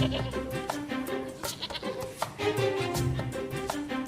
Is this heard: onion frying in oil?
no